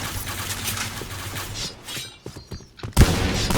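A shotgun fires in the first-person shooter Point Blank amid game noise, a sudden loud blast near the end after a brief lull of mechanical clatter, with earlier shooting and rumble filling the start.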